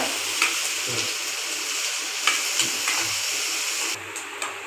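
Salted onions sauté in a pan for beef gravy, giving a steady close hiss of frying with occasional soft stirring clicks and scrapes, no voices.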